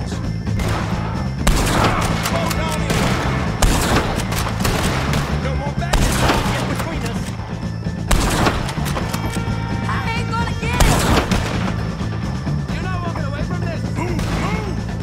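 A gunfight with O'Driscoll gang members in Red Dead Redemption 2: loud, close rifle and pistol shots crack in irregular bursts over a continuous din of music and clatter, with shouting voices mixed in.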